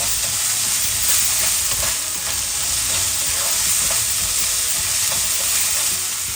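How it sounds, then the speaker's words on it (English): Freshly grated ginger and garlic sauté in a pan for a Philly chicken cheesesteak filling, an even, loud crackling sizzle that runs unbroken with light stirring, close up and free of talk. "simply grate fresh ginger garlic and nicely saute this"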